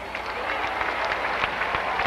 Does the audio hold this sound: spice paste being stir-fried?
no